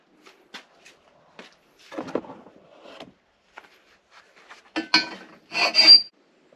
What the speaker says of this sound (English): I'm just gonna keep filing it till